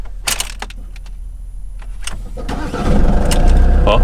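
Van engine cranking and catching after a few light clicks and key jingles, then settling into a steady close idle.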